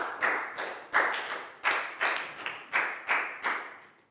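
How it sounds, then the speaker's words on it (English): A Year 4 maths class claps for a pupil in a run of about nine loud, evenly spaced claps struck together, each one sharp and then fading quickly in a quiet room. "High five and a big round of applause for Net"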